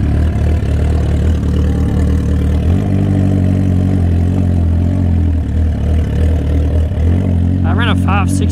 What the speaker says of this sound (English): The bike's running good.